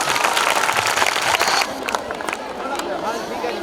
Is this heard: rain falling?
no